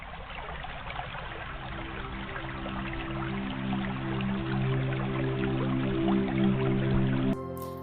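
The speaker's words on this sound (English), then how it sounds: "sounds of flowing water streams" Steady flowing water, a continuous trickling stream with a low tonal hum beneath it, constant and fairly close throughout.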